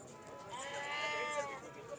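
Goats at the Talagang livestock market in Pakistan bleat in a drawn-out, wavering call, moderately close, over the low hubbub of the crowded mandi.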